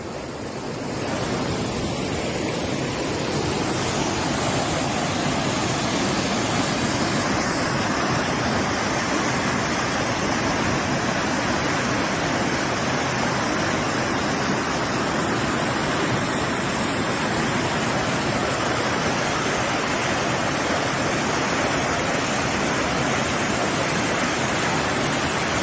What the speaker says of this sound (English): Woodland people, the water coming.